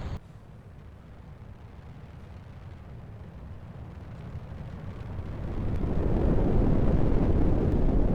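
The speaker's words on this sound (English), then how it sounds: "away goes our rocket" A rocket lifts off toward a sun-synchronous polar orbit with a deep, steady roar that swells and grows louder over several seconds, a broad rumble with no voices.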